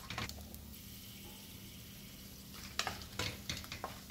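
Cashew nuts fry in oil for mutton biryani with a quiet, steady sizzle, broken near the end by a few close stirring scrapes and clicks.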